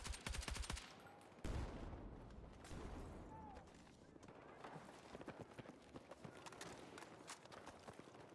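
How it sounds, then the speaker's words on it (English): Enemy machine gun firing in the video game Battlefield 6: rapid bursts of sharp automatic shots, loudest in the first second, then scattered shorter bursts and distant pops amid battle noise, with faint voices in the background. "Enemy machine gun."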